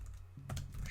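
A command is typed on a computer keyboard during a router configuration session, a faint burst of several quick key clicks near the end after a quiet start.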